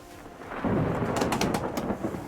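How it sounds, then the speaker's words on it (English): Low rumble of thunder in the naval battle video game Waves of Steel, swelling after a quiet start into a loud sustained roll with crackling bursts on top, birdlike chirps faintly mixed in. "It's a rumble of thunder already."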